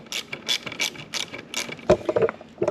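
An 8 mm ratchet loosens a small clamp on a McLaren intake sound generator, giving close, rapid clicking strokes in short repeated bursts, alone without talk.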